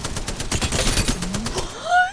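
Rapid automatic gunfire rattles in the Apex Legends video game as a fast, dense string of close shots. A rising electronic tone near the end overlaps the burst, and faint voices are heard beneath it.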